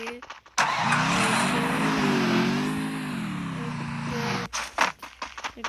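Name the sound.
vehicle driving in a video game (Free Fire)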